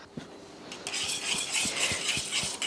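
A spoon stirs strained mango juice in a vessel, giving soft, irregular clinks and liquid swishing, close and fairly quiet.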